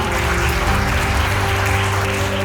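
Audience applause at a school award ceremony, a Siemens smart NC competition prize-giving, heard as steady, dense clapping filling the hall for the whole stretch without pause.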